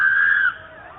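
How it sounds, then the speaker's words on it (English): A woman's high, strained cry rings out for about half a second, then fades into a quieter, wavering tail. "Captured on her doorbell camera are the sounds of a woman crying out for help."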